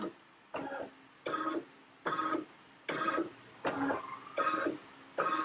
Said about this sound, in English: it does a really quick process or quick scan there